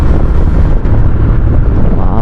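Strong, chilly night wind at Yelagiri roars and buffets the microphone, a loud, close, low rumble that stays steady throughout.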